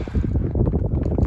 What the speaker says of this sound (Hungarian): És az erős szél nagyon szép munkát végez, szép formákat hoz létre a kövek körül.